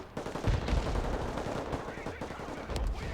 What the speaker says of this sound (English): We are slowly shooting out from the buildings at them with the rocket launchers.